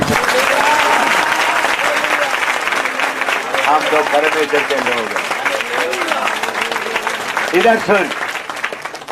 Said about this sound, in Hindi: आप लोग ताली बजाकर खुश हो जाए